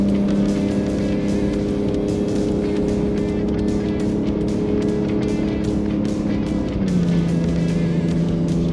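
Turbocharged Ford Ranger Raptor engine droning steadily while towing up a steep 12% hill, a loud continuous hum that drops in pitch as the gear changes up near the end.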